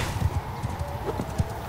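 Horse hooves clip-clop in a Total War battle as a rider keeps running. The hoofbeats are fairly faint and uneven and sit over soft background game ambience.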